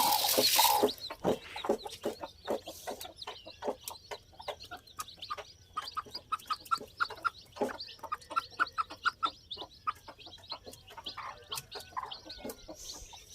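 Chicks and chickens cluck softly while pecking at food, a busy stream of short, irregular clucks and taps close by, continuing without pause.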